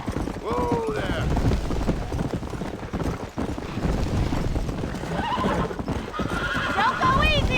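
Horse hooves clop at a gallop in the Western video game Red Dead Redemption, with whinnies and a snort mixed in, loud and continuous under a rider's calls.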